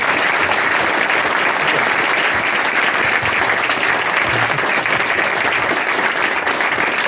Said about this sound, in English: Give it up again, please,